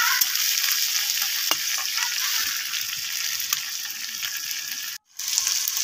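Tomatoes fry in a pan for a radish curry, giving a steady soft sizzle with light stirring scrapes. The sound is fairly quiet and nearby, broken by a short silent gap near the end.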